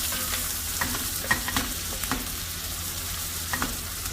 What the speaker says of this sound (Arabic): الحين دور حماس البصل، نحمسه شوي لين ما يهد.